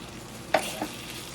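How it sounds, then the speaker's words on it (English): Broccoli being stirred into a frying Manchurian sauce in a pan: two quick, faint utensil scrapes over a low background sizzle. "And finally I will add the broccolis."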